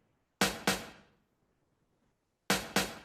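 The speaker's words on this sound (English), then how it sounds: "And then I found this kind of brush slap thing," Brush slap snare hits used as grace notes: two quick pairs of sharp, close swishy slaps, one pair at the start and another after a pause of silence, each with a short decaying tail.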